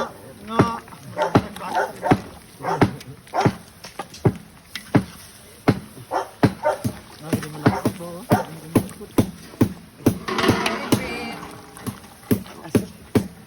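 A dog barks repeatedly in short sharp bursts amid a busy outdoor scene, with people talking nearby throughout.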